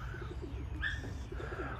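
Pigeons coo softly near a trap in a racing-pigeon loft, low repeated throaty coos in an uneven rhythm over a steady background hiss, with a brief brighter call in the middle.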